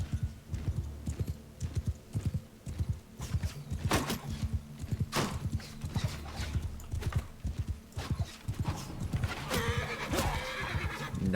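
Horse in the Bannerlord video game with rapid galloping hoofbeats drumming throughout, close and loud, broken by a couple of neighs and whinnies and scattered battle clatter.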